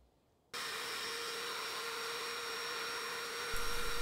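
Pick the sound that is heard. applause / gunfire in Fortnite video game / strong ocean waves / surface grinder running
surface grinder running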